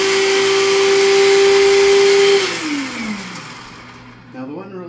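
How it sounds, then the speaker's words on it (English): A food processor running loud and steady with a high motor whine, then powering down and winding to a stop about halfway through, leaving quieter room noise and a brief rustle at the end. "the one really good thing about a food processor is it does all this for you really quick"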